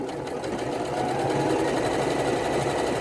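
A sewing machine runs steadily while stitching fold over elastic onto fabric, a close continuous whirring hum with a rapid rhythmic needle patter, with no talking.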